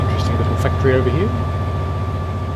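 Steady factory machinery in the Train Sim World 3 railway simulation drones with a low hum and a constant tonal whine, while a voice talks briefly over it.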